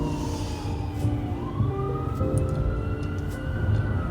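An ambulance siren wails steadily on a city street, its rising and falling tone loud and continuous over rumbling traffic, with no talk.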